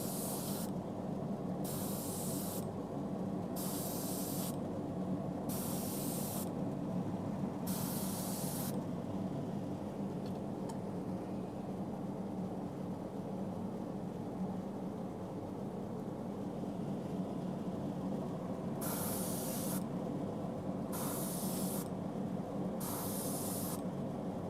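Bursts of aerosol spray paint laying sky blue specks through a stencil onto a brown crankbait lure, a steady run of short hissing puffs, then a long quiet stretch before a few more puffs near the end.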